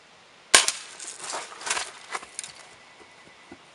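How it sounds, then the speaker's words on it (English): A BB gun fires with a sharp, loud snap followed by a brief clattering rattle, then a second quieter crack and scattered small impacts fading out. "I shot it at the top."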